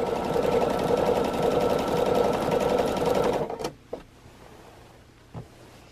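Sewing machine stitching quilt fabric for the top molding of a bookshelf quilt, running in a fast, steady buzz for about three seconds, then stopping, followed by a few faint clicks and bumps.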